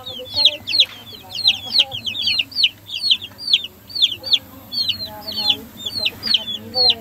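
Hens clucking and calling in a farmyard at an Italian Lombard-themed festival, repeated short squawks and clucks coming close and loud over a low crowd murmur and background hum.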